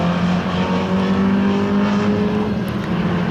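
Historic saloon race cars, including a Mustang, roaring around the Snetterton circuit in a 2012 HSCC race, a loud steady engine drone with sustained tonal whine as a car holds high revs nearby.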